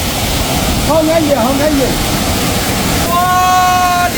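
Waterfalls in a mountain gorge of primeval forest produce a continuous loud roar of rushing water, with people talking and exclaiming over it.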